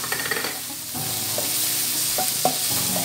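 Flour is stirred into a pan for a pumpkin mac and cheese sauce: a spoon scrapes and taps against the pan with a few distinct knocks over a soft, continuous sizzle, close and clear.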